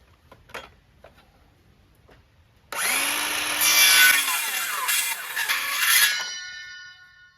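A few faint taps, then a loud power saw starts and cuts a notch into a wooden shed rafter for several seconds, its whine rising and falling before stopping.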